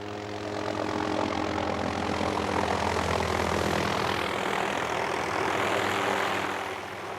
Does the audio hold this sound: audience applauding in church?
no